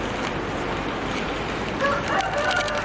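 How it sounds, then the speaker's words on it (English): A rooster crows in the distance over steady traffic-like background noise in Bangkok, its call rising faintly near the end. "And there's chickens, cockerels."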